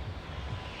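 Propeller airplane engine in Fortnite, a steady low droning rumble heard up close with no pauses over a brief moment.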